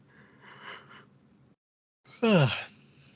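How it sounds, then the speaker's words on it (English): A tired adult lets out a breathy exhale, pauses briefly, then gives a single drawn-out yawn whose voiced pitch slides downward. It is close and alone, with no talk over it. "I'm ready for bed. I'm yawning."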